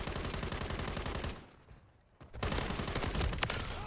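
Rapid automatic gunfire rattles in Call of Duty Modern Warfare 3, loud dense bursts pausing briefly mid-way before another volley resumes.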